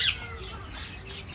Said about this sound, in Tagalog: Ito naman ang iba't ibang uri ng ibon.